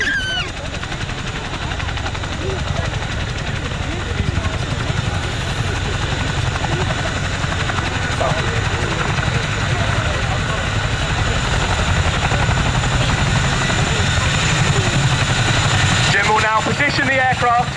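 A Royal Air Force Chinook helicopter at the RAF Cosford 2023 airshow gives off a loud, continuous throbbing rotor and engine drone that stays steady the whole time, with voices faintly present.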